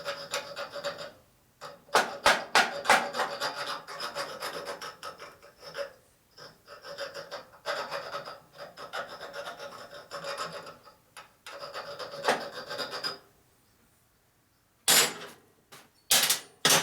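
Hand filing on a 1941-72 Harley-Davidson WL top motor mount, a steady metallic rasp of repeated strokes in close, loud bursts with short pauses between, no talking.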